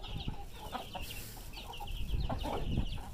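Hens cluck and squawk close by in a busy, agitated burst, with overlapping calls over a rough background rumble.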